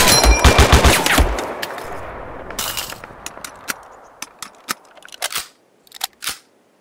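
Rapid bursts of machine gun fire in the Mud and Blood video game, a dense loud volley at first, then scattered sharp single shots and short bursts trailing off into silence.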